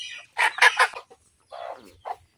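A desi (native country) chicken clucks in a quick burst of several notes, followed by a couple of softer clucks after a short pause, close and clear.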